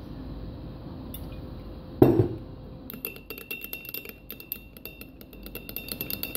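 Olive oil dressing is stirred in a glass bowl, heard as a sharp clink followed by a rapid run of light glassy clinks and taps from a utensil, close and clear, with no voices.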